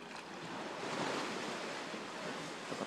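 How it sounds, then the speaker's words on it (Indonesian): Continuous broadband wash of sea waves at Raja Ampat, a soft steady rushing surf with gentle swells, moderately quiet and without voices. "Depan tempat makan kita laut."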